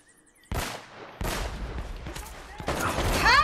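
Gunfire from the video game Uncharted: Drake's Fortune, loud sharp bursts of shots cracking out in clusters with brief gaps, echoing into a dense volley toward the end.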